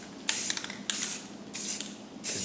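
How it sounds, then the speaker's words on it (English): Four bursts of white spray paint hiss from an aerosol can along a straight edge for a painted line, each a steady airy blast separated by short pauses, close and fairly loud. "I'm gonna spray a line going down."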